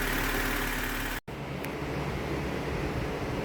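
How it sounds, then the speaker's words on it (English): A 1996 Honda Civic EX 1.6L engine idles steadily up close with a faint ticking from the valvetrain, cut by a brief dropout partway through. "Got a little bit too much of a tick on there."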